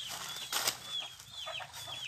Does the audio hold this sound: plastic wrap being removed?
no